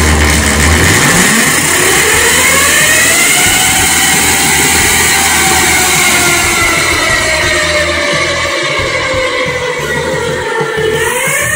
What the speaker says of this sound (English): anybody who says that an electric motor is quiet and they won't hear you coming obviously hasn't used one of these